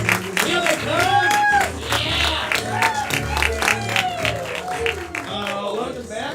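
An audience claps and cheers to welcome performers back onstage at a live comedy show, sustained applause and whoops running throughout while a voice talks over the noise.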